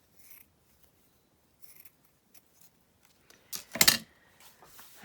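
A pair of scissors makes a few quick snips through lace at a desk, producing a brief crisp cluster of sharp cuts near the end after mostly quiet rustling.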